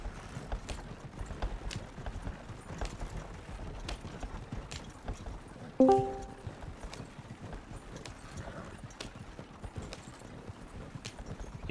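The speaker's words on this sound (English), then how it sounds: "Yeah, I'm getting on my horse. I'm coming." A horse's hooves clip-clop in the Red Dead Redemption video game, a rapid, steady gallop rhythm close by, with a brief mechanical clatter midway.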